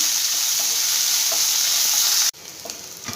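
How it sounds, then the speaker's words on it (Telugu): Coriander stems, green chillies and peanuts fry in a pan, giving a steady loud sizzle with occasional stirring clicks; the sizzle drops sharply partway through, then continues more quietly. "ఇది కూడా ఇందులో వేసి బాగా వేగించుకోవాలండి"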